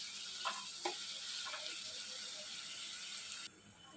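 Onions browning in hot oil in a pan for a Telugu okra stew, a steady soft sizzle with a few faint clinks of stirring throughout.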